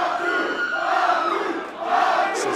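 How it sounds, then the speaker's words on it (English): A wrestling crowd at a Rhodes Wrestling Association anniversary show cheers and chants steadily in a large hall, a dense roar of many voices that dips briefly and swells again. "listen to that crowd"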